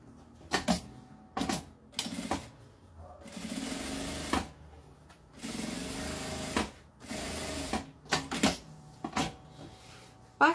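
Sewing machine stitching a seam on a zippered cosmetic case, running in a series of short bursts and a few longer whirring runs separated by pauses, close and clear.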